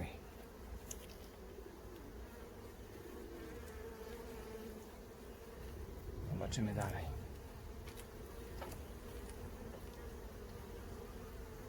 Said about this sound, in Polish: Z obu stron wychodzą, wychodzą pszczoły, wygryzają się.